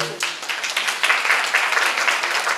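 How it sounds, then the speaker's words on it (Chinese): Audience applause at a live talk event, a dense, steady wash of many hands clapping close by for a few seconds, with no speech over it. "给你们自己一个掌声好吗？"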